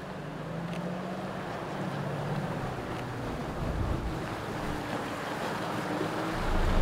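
A 4WD pushes through a deep creek crossing on a rough outback track in Australia, giving continuous loud sloshing and rushing water over a low engine drone that swells slightly toward the end.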